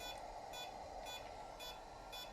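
Faint, high electronic beeps from a Jumper Bumblebee drone radio controller's buzzer repeat at a steady pace, about twice a second, over a quiet hum.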